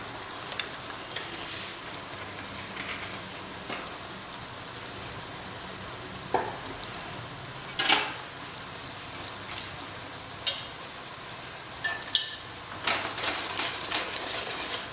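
Meat with salt stirred in ghee and onions for Rajasthani boti masala gives a constant soft sizzle with occasional louder scrapes and clinks of a spoon in the pan, close by and without talk.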